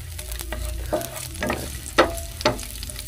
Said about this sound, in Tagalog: Atin lang halo-haloin para yung nasa ilalim ay iibabaw.